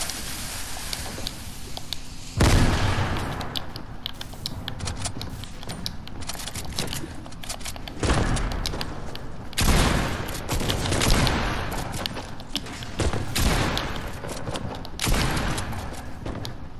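Bursts of gunfire ring out during a fight in the Fortnite video game, with sharp rapid volleys and heavy booms starting abruptly and recurring in clusters, loud and close, without talk over them.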